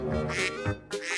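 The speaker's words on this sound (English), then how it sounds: "Duck." A duck quacks loudly and close by, two harsh nasal quacks in quick succession with a brief gap between them, standing alone without any talking over them.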